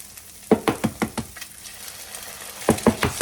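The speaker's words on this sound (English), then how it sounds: "I'm just gonna put in my egg." An egg going into a hot pan for a sausage and eggs brunch, sizzling and frying in a series of bright crackling bursts at a close, steady kitchen level, with no talking.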